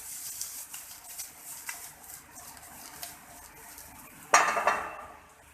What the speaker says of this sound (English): while frying the eggplant, you need to add some salt in this and cook it till it becomes soft